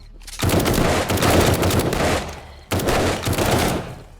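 Gunfire in the video game 7 Days to Die comes in two long, loud, rapid bursts, broken by a brief gap, with no talking.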